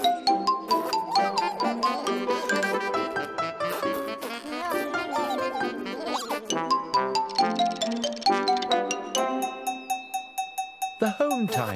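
Chiming bell tones ring out in a quick bright melody, a children's bedtime television show's round time bell, clear and close over a quiet background, ending in rapid repeated dings.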